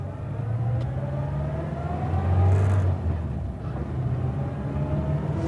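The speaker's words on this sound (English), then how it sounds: "there's a car in the distance kicking up dust" A car drives along a dusty road in the distance, giving off a low, continuous engine rumble that swells briefly midway and then settles back, with no voices.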